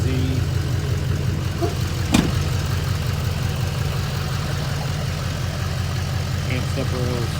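A lifted 2011 Chevrolet Duramax diesel LTZ pickup with a stock turbo idles in a steady, loud, low rumble throughout, with a brief sharp transient partway through.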